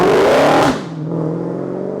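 A Dodge Hellcat with a 707 bhp 6.2 litre V8 revs hard in a loud, rising roar that drops off sharply into a lower, lingering rumble after the upshift.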